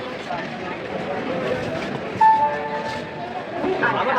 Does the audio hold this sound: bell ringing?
no